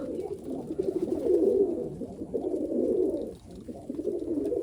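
Giribaz pigeons kept in a loft in Rajshahi, cooing continuously in low overlapping warbling calls, close and fairly quiet, with no talk over them.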